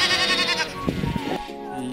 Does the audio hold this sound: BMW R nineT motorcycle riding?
no